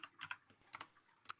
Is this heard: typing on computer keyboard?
yes